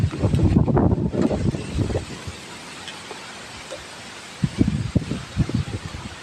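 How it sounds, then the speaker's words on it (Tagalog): Strong gusts of wind buffet the microphone in loud rumbling bursts, dropping off in the middle before roaring back. "Sobrang lakas ng hangin mga ka-idol"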